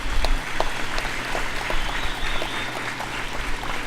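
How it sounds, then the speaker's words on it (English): A graduation audience in Belmopan applauds steadily, a dense wash of many hands clapping at moderate distance with no voices rising above it. "I ask you to salute them, graduates, with a tremendous round of applause."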